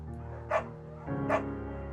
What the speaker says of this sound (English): Pick up the beagle